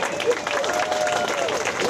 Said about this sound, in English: give Marvelous one a clap